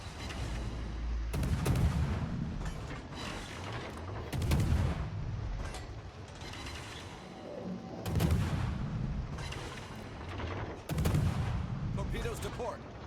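Naval destroyer guns in a video game fire in repeated heavy booming salvos, each followed by a rumbling decay, recurring roughly every three seconds amid constant background battle noise.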